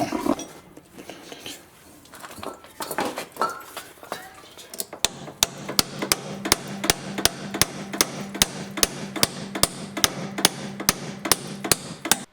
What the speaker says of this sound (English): You can see when I'm hammering the bolt trying to get it in